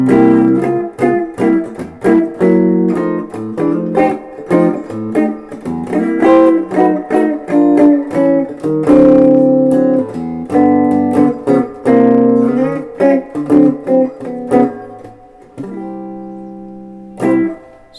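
A guitar plays a jazz blues progression using only two chord shapes moved around the neck, with rhythmic strummed chords sounding close and steady throughout, ending on a sustained final chord.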